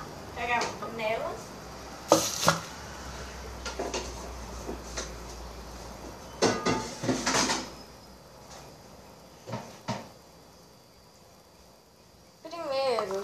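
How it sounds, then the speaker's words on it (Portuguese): Clattering of cookware as a pot is taken out to cook instant noodles, with sharp knocks and bangs from pots and a cupboard or drawer, amid some talking and a sizzling background. "Pegar uma panela."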